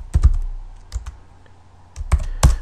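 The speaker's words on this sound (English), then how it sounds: "And I can pretty much type in things, set words or formulas" Keys on a computer keyboard clatter in short clusters of taps with pauses between them, close and crisp.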